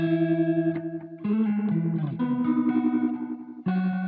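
A Strymon Brig analog delay pedal with deep modulation on a guitar: sustained chords and single notes with swirling, warbling repeats that grow intense and almost organ-like, clear and alone.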